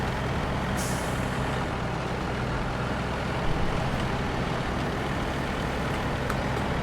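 A Paystar ten-wheeled truck in SnowRunner rumbles steadily and loud throughout, a deep continuous engine drone with a faint hiss near the start and no voices.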